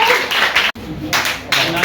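Children at a cleanliness-fortnight prize event clap together in a dense burst, pause briefly, then clap again, with a voice speaking over the applause.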